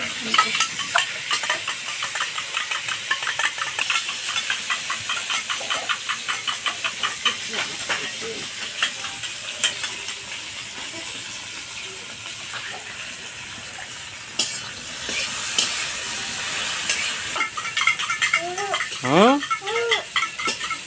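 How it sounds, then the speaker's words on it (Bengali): Okra fries in a pan with a continuous hiss and sizzle, and a spoon stirs and scrapes it at a steady rhythm. A voice speaks briefly near the end. "ঢেঁড়সটা বেশি ভাজবো না"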